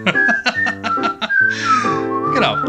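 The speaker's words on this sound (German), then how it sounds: "Und in beiden Liedern wird gepfiffen und getrellert." A person whistles a cheerful tune, a short series of clear bouncing notes followed by a sustained sliding phrase, close and solo.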